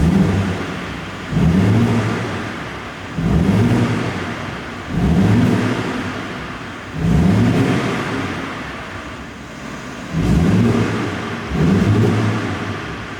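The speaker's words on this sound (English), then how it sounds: "let's hop into that lovely Isle of Man Green M3 and see what it sounds like in sport mode" An Isle of Man Green BMW M3 in sport mode revs repeatedly, six loud, rising engine bursts at roughly two-second intervals, each dropping back to a quieter idle.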